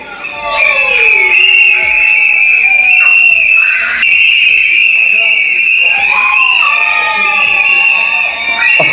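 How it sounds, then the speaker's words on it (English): Relatives of a winning candidate blow shrill whistles at an election-result celebration in Bengal, loud sustained tones sliding in pitch over a noisy crowd, with voices talking and shouting throughout. "images coming in of Vijay's family blowing the whistle"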